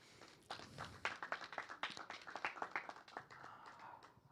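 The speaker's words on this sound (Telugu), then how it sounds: "చప్పట్లు." Audience clapping in a hall at an awards felicitation event, a steady burst of many hands applauding for several seconds, moderately distant and fairly faint, with no talk over it.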